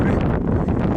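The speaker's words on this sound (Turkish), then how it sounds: "rüzgar geldi." A brief rush of wind buffets the microphone with a low, steady roar during a bicycle climb up Uludağ.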